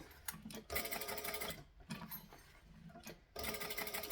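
A sewing machine stitches a bag, running in close, loud bursts of rapid mechanical chatter with short pauses between runs.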